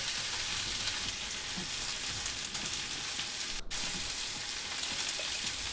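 Tengra fish with long-cut spring onions stirred in a hot frying pan, a steady dense sizzle and hiss throughout with faint scraping of the spatula, close and continuous.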